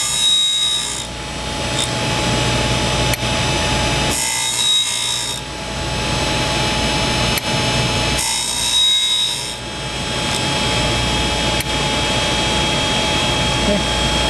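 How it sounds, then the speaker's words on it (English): A cutter grinder wheel sharpens a carbide insert, giving a loud continuous grinding whir that swells and drops as passes are made, with brief quieter gaps between them. "Wheel seems to be cutting this pretty good."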